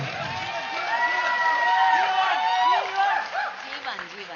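An audience at a live event claps and cheers for a DJ, a swelling wash of applause and whoops under a sustained tone, with voices calling out through the crowd noise.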